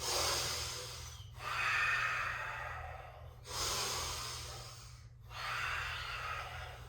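Slow, deep breathing during a gentle yoga flow, close and audible: long airy inhales and exhales alternating in a steady rhythm, about four breaths with brief pauses between, no talking.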